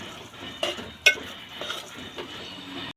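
Spices and masala being mixed and stirred in a pan while cooking misal, with light scraping and clinks of a spoon against metal, one sharper clink standing out among soft, uneven stirring noises.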